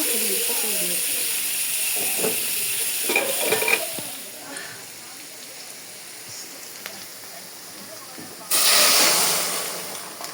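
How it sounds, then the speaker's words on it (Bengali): Hissing oil sizzles steadily up close as fish fries, with a few scrapes and knocks; the sizzle briefly fades, then surges loudly near the end. "এখানে এখন মাছ ভাজা হচ্ছে যেটা আমি মাত্র কাটলাম"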